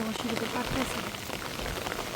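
Steady wind-driven rain falls outdoors in a village yard where paddy is spread to dry, a continuous broad hiss with faint tonal bits and no clear speech.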